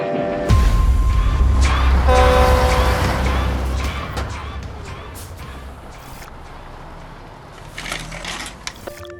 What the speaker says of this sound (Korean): 그런데 기차가 달려옵니다.